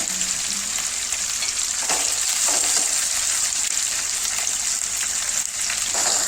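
Ingredients stirred and fried in a pan for a Telugu taro-root curry (chamadumpala pulusu), with chopped coriander among them: a steady, close sizzle with scraping stirs throughout and no talking.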